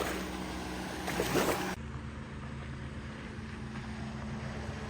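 Motorboat running on Lake Champlain as it rises up on plane, a steady loud engine drone with rushing water and wind noise throughout, briefly swelling before settling into an even roar.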